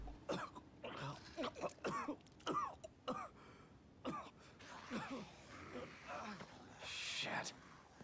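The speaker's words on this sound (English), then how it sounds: "Stop coughing, they'll hear us." A character in The Evil Within coughing and clearing his throat in a run of rough, hacking bursts, close and fairly quiet, with a louder breathy sound near the end.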